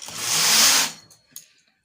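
A sweater knitting machine carriage runs one stitch row of red wool, a loud continuous mechanical whirr lasting about a second, followed by a few faint clicks.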